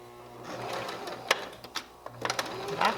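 A sewing machine stitches a 1/4 inch seam on a quilted pillow, its motor running in steady bursts with short pauses and a few clicks, close and moderately loud, while someone talks over it.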